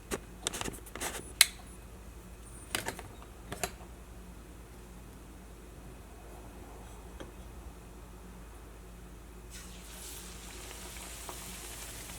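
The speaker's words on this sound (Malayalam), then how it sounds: "ഇത് നമ്മുടെ ഈ ബാറ്ററിൽ ഡിപ്പ് ചെയ്യുക, ഓയിലിലേക്ക് ഇടാം" Batter-dipped potato slices sizzle steadily in hot oil, a soft continuous frying hiss with a few clicks and clatters early on, close and fairly quiet.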